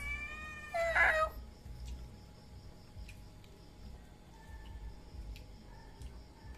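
A pet cat named Ginger gives one short, rising meow at close range against a quiet room with faint background hiss.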